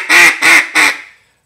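A duck call blown at a higher pitch gives three loud, sharp quacks in even rhythm, close and alone, the last one trailing off.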